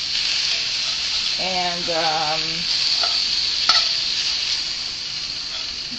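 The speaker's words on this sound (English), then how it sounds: "Right now, I am cooking the ground beef." Ground beef sizzles steadily while frying in a pan, a constant close crackle that runs throughout, with a brief voice speaking over it partway through.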